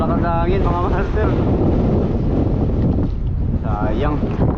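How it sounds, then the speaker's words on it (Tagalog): Strong wind roars steadily into the microphone while kayak fishing, broad and continuous, with voices calling out over it now and then. "Abutan tayo ng malakas na hangin"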